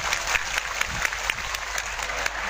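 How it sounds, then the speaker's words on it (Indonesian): Audience applause in a hall during an Islamic sermon, steady dense clapping from a crowd of listeners at moderate volume, continuous for a few seconds with no talking over it. "Tepuk tangan dulu dong."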